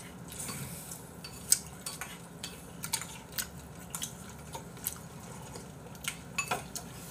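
Metal spoons clink and scrape against bowls while seaweed soup is eaten, with scattered sharp taps and clatters at an uneven rhythm over quiet background noise.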